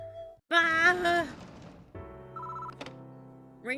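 A telephone rings in the video game Spirit Hunter: Death Mark 2, a bright electronic trill burst followed by softer tonal chimes and a final ring, clear and close with no voices.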